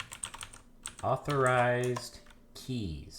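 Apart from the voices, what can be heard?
typing on a computer keyboard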